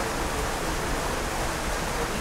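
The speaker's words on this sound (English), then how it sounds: "It's one big waterfall going right into a big, big, big tank." Large waterfall pouring into a huge aquarium tank inside a Bass Pro Shops store, a constant broad rushing roar of falling water, close and even, with no speech.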